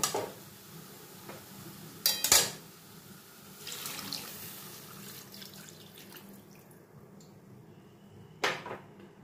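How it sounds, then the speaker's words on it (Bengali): Water is poured into a pan of elephant-foot yam and potato fried with spices, with splashing and clinking of utensils, a couple of sharp knocks, and quieter trickling between, no voices. "এবার গ্রেভির জন্যে এর মধ্যে জল আমি অ্যাড করে দেব।"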